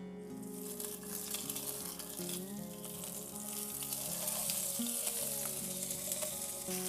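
Octopus sizzles and fries in olive oil in a hot pan after garlic has browned, a steady close crackle with occasional stirring noises and a faint tonal background hum underneath.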